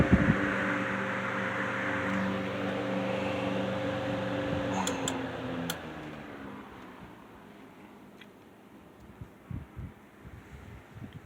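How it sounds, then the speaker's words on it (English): GE Vortex oscillator table fan spinning down after being switched off, a steady motor hum with falling tones that slowly fades to a quieter whir, followed by a few faint clicks near the end. "Let's turn it off and let's check out the spin down."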